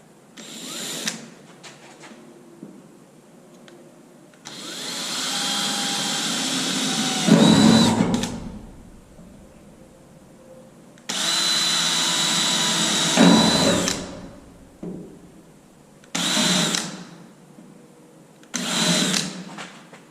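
A power drill with a double-sided bit bores holes in a 1968 Mustang quarter panel, with several whining bursts of varied length, the longer ones rising to a harsh grind as the bit bites through the metal.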